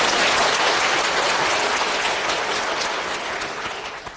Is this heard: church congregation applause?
yes